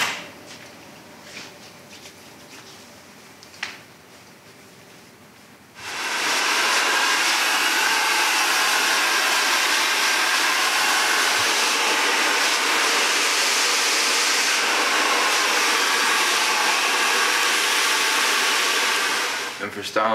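A hair dryer blows steadily and loudly for about fifteen seconds while hair is blow-dried during a barbershop beard straightening and side-part haircut, starting abruptly after a few seconds of quiet room noise.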